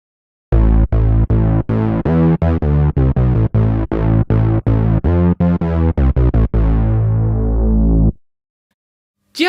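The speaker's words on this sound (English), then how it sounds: "if you want that really big and wide synth bass sound, it can sound like this" Big, wide synth bass with a thick, full tone, hammering a rapid string of loud repeated notes before a long held note fades out, with no talking.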